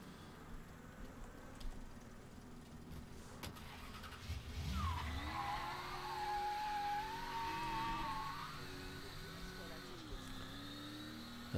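A car engine in the video game Mafia III revs up and holds a rising, wavering note for a few seconds before settling, moderately loud beneath someone speaking over the game.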